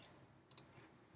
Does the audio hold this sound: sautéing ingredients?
no